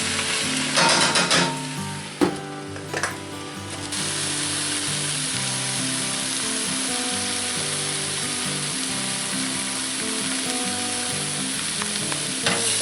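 Spinach and garlic sautéing in a pan, a dense continuous sizzle and hiss, loud and close, with a few clattering stirs and knocks in the first seconds before it settles into steady frying.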